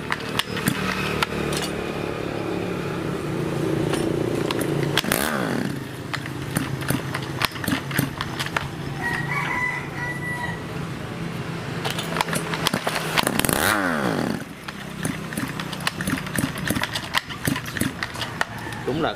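A Shindaiwa SD300 chainsaw under repair is pull-started twice and its engine fires up, each start rising in pitch and then running in a rough, uneven drone, with people talking close by.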